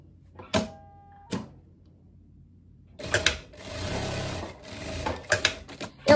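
Domestic sewing machine stitching darts on both sides of a long viscose dress, a short whir near the start, then a steady rattling run of stitching lasting a few seconds, fairly close and alone.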